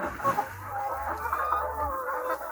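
Chickens cluck steadily at close range on fresh rice husk litter in a coop, with a busy cluster of overlapping hen calls and some rustling of the husks, no talking.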